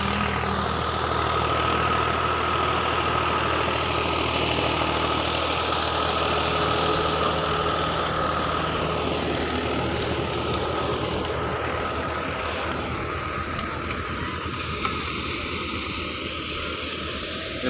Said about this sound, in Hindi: देखिए ट्रैक्टर चल रहा है मेरे खेत में